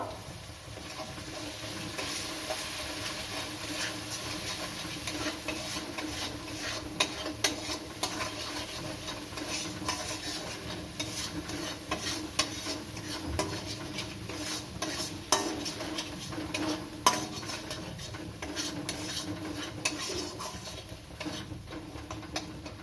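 Spices for a Bengali fish curry (vangon macher jhal) with salt and Kashmiri chilli powder being stirred and fried in a pan. A steady, soft sizzle runs throughout under scraping spoon strokes and occasional light clinks of utensil on metal.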